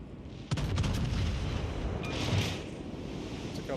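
Deep rumbling booms of naval artillery shells striking ships in World of Warships Legends, a sharp crack followed by sustained roaring, surf-like wash that swells and fades, moderately loud with no talk.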